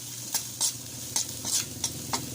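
Onions sautéing in a pan for pork sisig, a close sizzle punctuated by about seven quick bright stirring scrapes in an uneven rhythm, with no talk.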